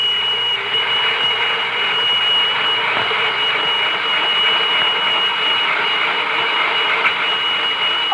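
A toy fire engine makes a continuous high, whining siren-like drone with a rough mechanical buzz underneath, steady and loud throughout with no pauses.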